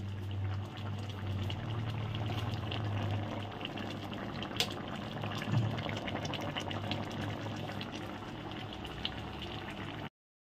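A Bengali fish roe fritter curry, seasoned with garam masala and a little sugar, simmers in a pan with a continuous soft bubbling and gurgling that stays fairly quiet and even throughout.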